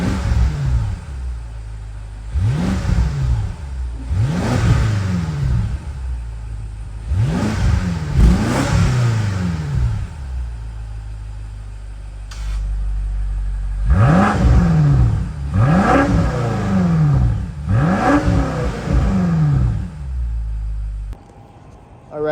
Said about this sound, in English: then we're going to do a few revs with the valves open